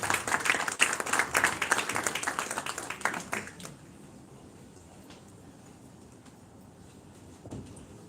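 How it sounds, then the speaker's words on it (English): Audience applause at a film festival award ceremony in India: a burst of clapping that stays fairly loud for a few seconds, then stops abruptly, leaving a quiet room with faint background noise and a small stir near the end. "Please give him a big round of applause."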